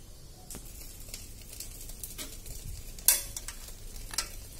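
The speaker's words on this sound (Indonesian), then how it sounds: "Nah, di sini sebelah kita panggang, kita hidupkan apinya." Banana-leaf packets of pepes ikan grilling over a freshly lit flame crackle and sizzle steadily, with scattered clicks and one sharp tap partway through, moderately loud and free of speech.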